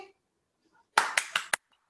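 A few people clap for a singer during an online spiritual talk, four quick loud bursts close together after a near-silent lead-in, with faint voices at the very start.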